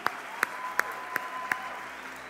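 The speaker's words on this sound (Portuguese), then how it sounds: "Vamos lá, mais forte esse aplauso a Jesus." Applause at a church conference, five crisp claps in a regular slow rhythm, close and distinct, then fading off into the quiet room.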